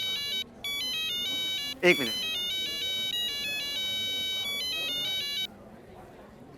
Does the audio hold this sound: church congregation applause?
no